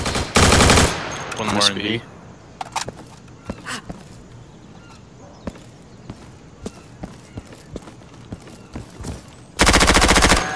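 Video game gunfire in a tactical match, with loud full-auto bursts at the start and end and scattered sharp distant single shots between them, with a voice speaking briefly over the action.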